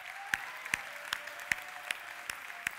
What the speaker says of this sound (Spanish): Venga, va, fuerte aplauso para el eulogio